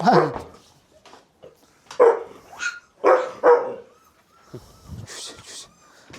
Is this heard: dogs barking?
yes